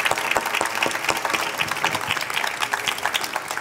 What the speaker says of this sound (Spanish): Vamos a darle la gracia y un aplauso a nuestros amigos